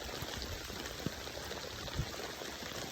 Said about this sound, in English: These are big raindrops, dude.